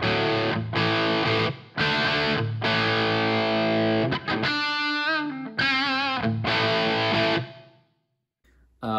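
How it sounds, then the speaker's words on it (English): An electric guitar plays through a Marshall amp on a light drive setting with a touch of reverb, giving a series of loud, slightly distorted strummed chords and short picked phrases, separated by brief gaps, before ringing out to silence. "This is what I've got on the Marshall. It is on a light drive setting."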